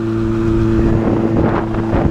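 A KTM 450 SXF four-stroke motocross bike engine runs at a steady, loud drone for about two seconds, with a little wind buffeting on the microphone.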